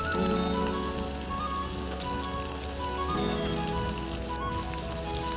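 Pre-fried chicken pieces hit a hot pan for a wedding-style chicken roast, setting off a steady, dense sizzle that hisses continuously and fairly loud throughout, with no talking.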